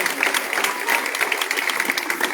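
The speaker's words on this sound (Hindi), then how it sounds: "तालियां बजती रहे" Applause at a yoga event in Basti district rolls on steadily, a dense clatter of many hands clapping at close range.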